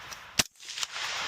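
A single sharp gunshot cracks out near the start at a shooting competition, followed by a fainter second report, over a steady background of outdoor noise.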